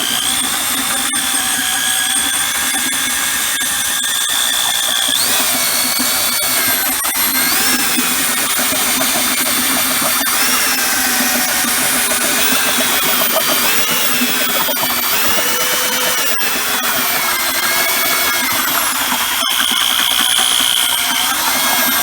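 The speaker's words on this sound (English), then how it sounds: "just run the drill nice and slow" A power drill whirs continuously and loudly, its pitch shifting up and down as it churns through thick homemade concrete, no talking.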